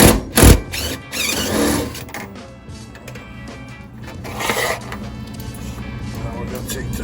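Bolt being loosened and removed from a Coke Royal vending machine during disassembly, a whirring mechanical tool burst and metallic rattles up close, loud at first and then a steadier clattering hum.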